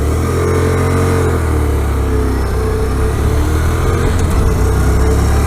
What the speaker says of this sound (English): God, I hate loud cars.